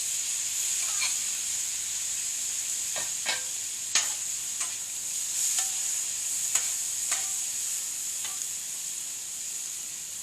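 Shrimp frying with garlic butter on a hot cooktop for fried rice, a steady hiss of sizzling under sharp intermittent clinks and scrapes of a utensil, close up with no talking.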